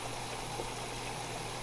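Water rushes steadily from the outlet of an Eheim Classic 1500XL aquarium canister filter, a constant close splashing hiss with no pauses or voices.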